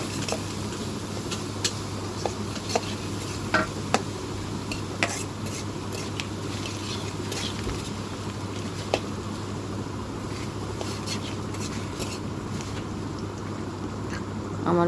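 Onions fry in a pan over a clay stove while pilau is cooked, giving a steady, dense sizzle with occasional light clinks and scrapes of a utensil and a low continuous hum underneath, with no talking.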